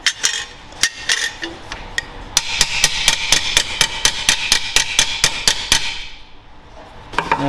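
A hammer strikes rusty Volvo XC wagon body metal during repairs in a rapid, even series of sharp, ringing blows, roughly twenty hits close by, ending in a brief lull.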